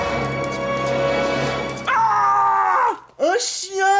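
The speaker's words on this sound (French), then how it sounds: "Un chien qui n'est pas le même que tout à l'heure" A dog barks and yelps up close in a few sharp, whiny bursts, following a stretch of voices and background sound.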